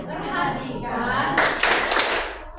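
A classroom group joins in the 'tepuk fokus' clap chant, with voices chanting first and then a loud, close burst of many hands clapping quickly for about a second.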